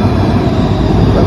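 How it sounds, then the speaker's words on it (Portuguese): A metro train arriving at a station in the Netherlands gives a loud, steady rumble and rolling roar close by, continuous throughout. "Olha o metrô aqui, chegar. Chegou o metrô aqui."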